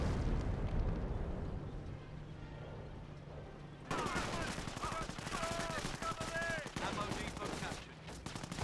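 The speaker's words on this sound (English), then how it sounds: "An actual artillery barrage there." Artillery barrage explosions in the WWII strategy game Company of Heroes, a dense run of booming blasts and rattling gunfire that sharpens and intensifies partway through, with a voice talking over it.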